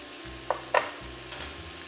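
Spices and lentil pilaf sizzle gently in a pan, with two quick clinks of a utensil against the pan and a brief burst of frying hiss near the end.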